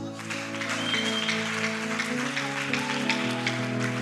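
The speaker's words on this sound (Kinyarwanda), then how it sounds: "Reka uyu mwami tumwongera amashyi." A church congregation claps in a dense, steady wash of applause, heard under sustained keyboard chords playing throughout.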